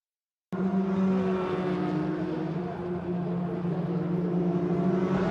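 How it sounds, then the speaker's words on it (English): WTCC touring race cars heading out onto the Suzuka circuit on the first lap: engine noise starts suddenly from silence, then a loud, sustained, tonal whine that wavers slightly as the cars accelerate away. "Cars heading out on the first lap at Suzuka"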